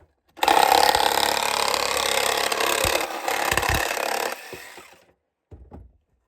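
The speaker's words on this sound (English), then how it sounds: "I just need to cut this wood a little bit, just cut it down a little bit on the top and bottom" Wood for a backing plate being cut down along its top and bottom edges, a loud rasping, grinding cut lasting about four seconds, then a few brief knocks and handling sounds; no talking.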